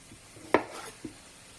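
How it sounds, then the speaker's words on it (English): Potatoes being chopped with a knife in a home kitchen while making vegan tacos: two short, sharp cuts, the first loud and crisp, the second softer, over a faint, quiet room background. "Potatoes. Still chopping them."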